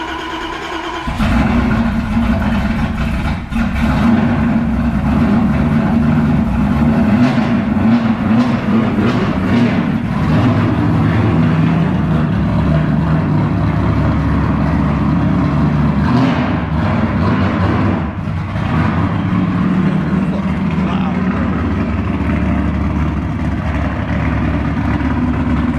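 An LS-swapped Nissan 350Z drift car runs at a loud, steady idle with a deep low rumble, holding constant throughout with slight fluctuations and occasional faint blips.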